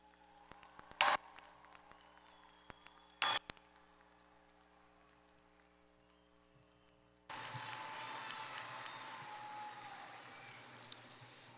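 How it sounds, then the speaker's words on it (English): A few scattered claps in a quiet room, then a sudden wave of sustained audience applause at a university commencement ceremony that carries steadily to the end. "Let's give them another round of"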